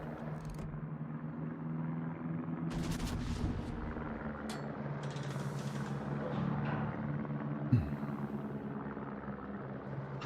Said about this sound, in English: Plane, you are very noisy.